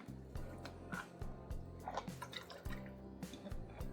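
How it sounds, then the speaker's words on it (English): Liquid soap poured into a cup while making homemade shampoo bars, a faint, soft run of drips and trickling that is quiet throughout and sits over a low, steady background hum. "I am going to pour part of my soap into this"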